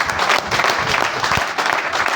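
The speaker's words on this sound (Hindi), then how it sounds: "आप अपने लिए ताली बजाओ कि आपके पास ये लॉन्च होते था" An audience claps together, steady dense applause filling the room at close range with no voices standing out.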